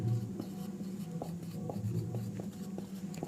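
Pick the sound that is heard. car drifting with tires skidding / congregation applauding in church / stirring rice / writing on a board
writing on a board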